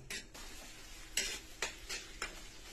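Pork sisig is sautéed in a pan: a few quick, quiet scraping stir strokes over a faint sizzle, close by.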